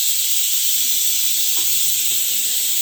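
Ridge gourd hits a hot tempering pan and sizzles in a steady, loud hiss of frying that fills the whole stretch with no talk.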